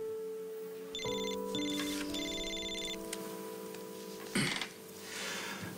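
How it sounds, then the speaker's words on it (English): A telephone rings with an incoming call, several electronic ringtone bursts in a repeating pattern over a steady tonal hum, moderately loud and close, with no talking. "You, just let it go to voicemail. No, take the call, Jack."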